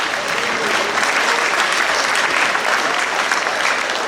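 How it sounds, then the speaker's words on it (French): A large audience in Conthey gives loud, thick applause that holds at an even level throughout, with a full continuous roar of many hands and no speech. "Ça va être applaudi."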